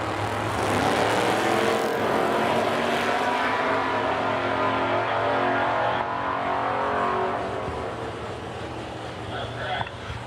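Drag racing cars, one of them a Buick, launch down the strip at a racing event, a loud, sustained engine roar that fades slightly toward the end, with an announcer talking over it.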